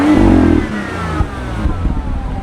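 A BMW M2 engine revs up briefly, loud and close, then the note drops away into a lower, rougher idle-like rumble with a few small pops and bumps.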